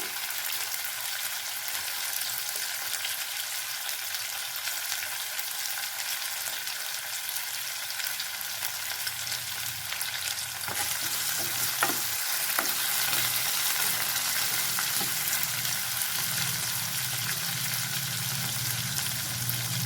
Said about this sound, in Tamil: எல்லாத்தையும் நல்லா வணக்கிக்கலாம்